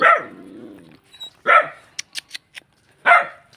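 A dog barks in short, loud, close bursts spaced about a second and a half apart, with faint clicks and small noises in the gaps between barks.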